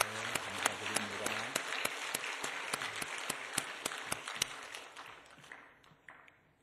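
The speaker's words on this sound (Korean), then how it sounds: "찬양단과 지휘자, 기악부, 반주자 모두에게 뜨거운 박수로 한 번 더 격려합시다" A church congregation at Mudeung Church applauds its choir, conductor, instrumentalists and accompanist: a dense, steady wash of many hands clapping with sharp individual claps standing out, fading away toward the end.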